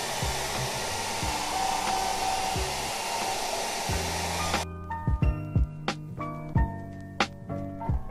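A hair dryer blows steadily and loudly on developed photographic film for about four and a half seconds, then cuts off, leaving quiet knocks and handling sounds.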